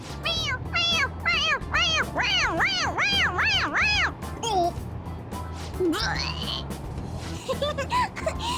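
In the video game Persona 5 Royal, a toy creature pressed on its head gives a rapid string of high, looping meows, several in quick succession, followed by a few softer mews among game sounds and brief vocal noises.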